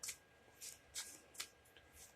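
Tarot cards from an Ethereal Visions deck are shuffled in several quick, crisp riffles, each a short papery flutter, close and quiet with brief pauses between.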